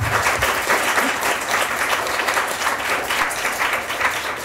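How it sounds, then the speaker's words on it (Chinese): Loud, steady applause from an audience at a panel discussion, dense clapping that fills the whole stretch without a break, with a brief voice heard at the very start. "请大家热烈的跺脚加拍手的"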